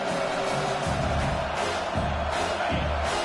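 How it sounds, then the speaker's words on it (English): Crowd at a college football game on third down, a sustained loud roar of cheering fans filling the stadium without clear individual voices. "Decibels rising as the crowd gets behind this defense on 3rd down."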